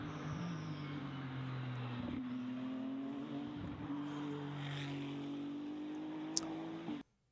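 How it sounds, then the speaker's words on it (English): A Ferrari 296 GT race car engine droning at a steady, sustained pitch with slight rises and dips, loud and continuous for several seconds before cutting off abruptly. "Check out this GT car. Max is racing it this weekend."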